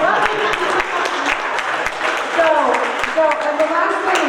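Applause from the audience at a Democratic legislative leaders' town hall, a steady spread of clapping sustained for several seconds with some voices and cheers mixed in.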